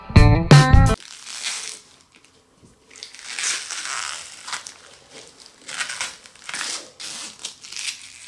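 A dried acrylic resin pour is peeled off its surface, with crackling, crinkling tears coming in irregular bursts up close after a brief loud burst of other sound at the start.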